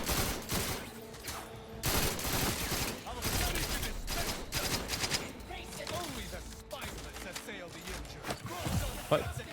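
Rapid gunfire from a firefight in The Outer Worlds 2 crackles in dense, continuous bursts, with shots layered over each other throughout amid other game noise.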